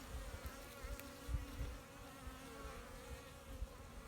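Honeybees inside a winter hive feeding on protein patties, giving a soft, continuous low buzz heard up close and faint, with no voices.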